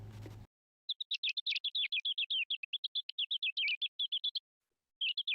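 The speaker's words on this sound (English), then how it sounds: "It turns out mice have these ultrasonic songs that sound like this." Mouse ultrasonic courtship song pitched down into hearing range, a rapid run of thin, whistling chirps and warbles strung together for several seconds, a brief pause, then more chirps, clear against silence after a short burst of noise at the start.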